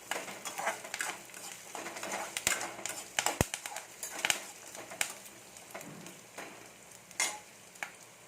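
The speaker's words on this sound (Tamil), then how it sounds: "வெங்காயம் நல்லா வதங்கட்டும் வெங்காயம் பச்சை மிளகா கருவேப்பிலை போட்டுக்கோங்க" Onion, green chili and curry leaves fry in a pan with a quiet, steady sizzle and crackle, broken by sharp scraping and stirring clicks from a utensil.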